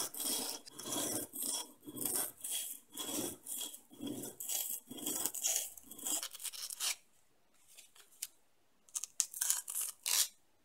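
A hand file rasps along a repurposed steak knife blade in repeated back-and-forth strokes, steady and close for about seven seconds, then a brief pause before a few more quick strokes.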